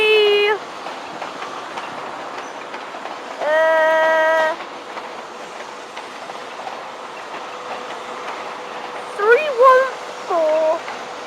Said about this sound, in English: that's a HST 43330 pulling in